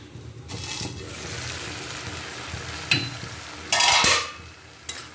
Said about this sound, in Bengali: এখন আমি ঘুগনি বানাচ্ছি।